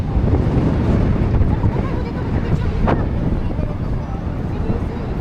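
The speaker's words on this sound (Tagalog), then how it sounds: "Hangin." Steady blustery wind rushing across the microphone, loud and continuous, with faint voices mixed underneath.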